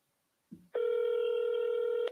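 A phone call rings unanswered: a short click, then one long, steady electronic ringback tone holding evenly for over a second, clear and close with no talking.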